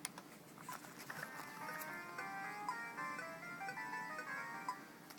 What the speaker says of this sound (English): you can hear the microKORG, right, playing back that rubbish melody line that I just did